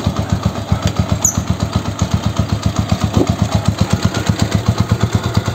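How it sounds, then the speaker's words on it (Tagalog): A Yamaha YTX 125 motorcycle engine idles steadily nearby during an oil change with engine flush, with a regular, rapid pulsing putter and no revving. "naka-ideal lamang po ang ating motor at wag na wag po nating i-rev ang throttle"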